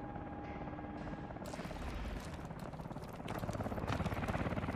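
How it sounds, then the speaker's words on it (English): A helicopter in Call of Duty Advanced Warfare thumps with rapid, pulsing rotor chop amid dense game noise, growing louder toward the end, with no one talking over it. "Push for the chopper!"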